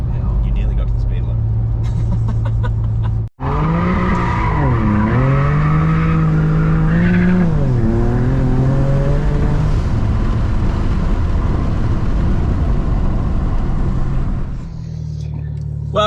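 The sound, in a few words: BMW N54 car with hybrid turbos accelerating hard, tires squealing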